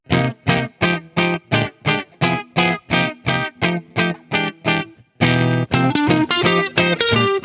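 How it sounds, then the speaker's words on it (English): A buzzy synth pulses in a steady repeating rhythm, then a gritty, fuzzier version through a waveshaper fuzz distortion plugin plays on, loud and upfront with no voices. "Or just add some fuzz to that buzz."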